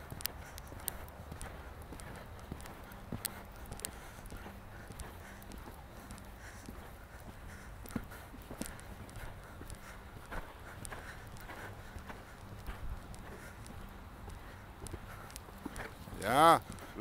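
A young horse in training walks under a rider, its hooves clip-clopping in a steady, fairly quiet rhythm beneath an instructor's ongoing coaching talk.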